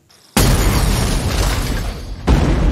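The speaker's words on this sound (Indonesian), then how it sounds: "ledakan yang dahsyat barusan tadi" A loud explosion bursts suddenly into a roaring, crackling blast that lasts a couple of seconds, followed by a second heavy boom.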